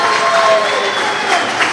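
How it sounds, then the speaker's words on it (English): A wrestling crowd at a CHIKARA independent show roars and cheers in a steady, loud wash of noise with scattered applause, a commentator's voice faintly audible beneath it. "And Mantis, listen to this crowd. On fire"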